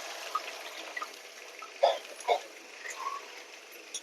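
A buttermilk mixture is poured into a hot pan for a kadi-style curry, giving a faint trickle with a few soft splashing gurgles, close but quiet, with no voices.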